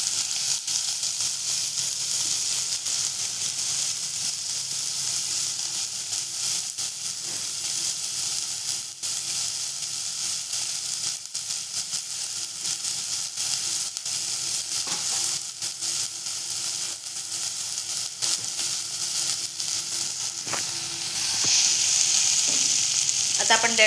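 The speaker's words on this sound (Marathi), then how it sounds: "आता एकत्र आपण त्याला मस्तपैकी असं परतवून घेणार आहोत" Onions sizzling and frying steadily in a hot pan for an ivy gourd and bean curry, a dense continuous hiss with occasional stirring scrapes, close and loud with no talking.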